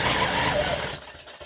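A sewing machine stitches quilting on a piano-keys quilt, a quick, steady mechanical whir close by that slows and trails off into a few lighter clicks.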